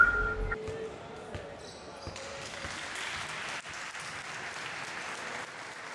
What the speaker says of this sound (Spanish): Aplauden al público y el público les aplaude a ellos.